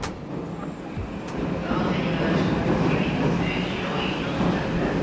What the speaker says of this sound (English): I am standing on a train platform here in Tokyo. I'm catching one of the last trains out here